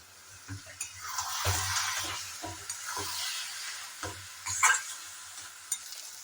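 Fish head and cabbage stirred and fried in a pan, a steady sizzle with repeated scraping strokes of a spatula at close range, no talking.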